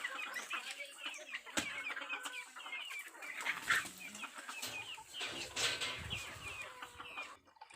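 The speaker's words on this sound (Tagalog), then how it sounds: "Bisaya nga manok." Several native Visayan chickens cluck and chatter close by in a busy farmyard, with overlapping calls and occasional sharp knocks and rustles.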